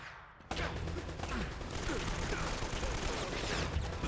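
Gunfire in Uncharted: Drake's Fortune: a dense, continuous fusillade of mid-distance shots and crackling impacts that begins abruptly and keeps going at an even loudness.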